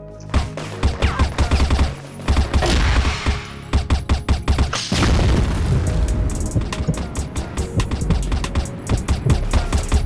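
A grenade blast and heavy gunfire in the online shooter CrossFire: dense, rapid volleys of loud shots, near and relentless, with a deep booming explosion partway through and no pause in the shooting.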